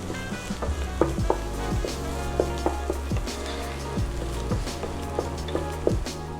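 Frying spices with smoked Spanish paprika, thyme and rosemary for a meat sauce are stirred in a pan. A soft, steady sizzle runs under rhythmic scraping strokes about once a second. No voices are heard.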